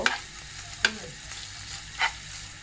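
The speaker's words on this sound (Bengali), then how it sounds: "এখন আমি প্রথমেই চিকেনগুলো দিয়ে দিব কারণ চিকেনগুলো একটু তেলে ভেজে নেব" Chicken pieces fry in hot oil with a soft, steady sizzle, punctuated by a few sharp clinks and scrapes of stirring in the pan, close and without voices.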